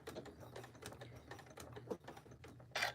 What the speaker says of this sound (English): So I'm going to start sewing